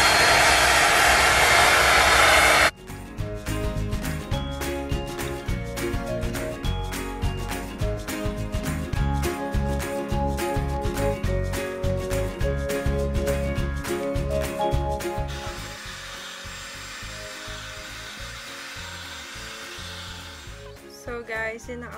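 Hair dryer blow-drying hair after rinsing, a loud continuous whoosh after a brief burst of other noise, steady for most of the time, then fading softer toward the end.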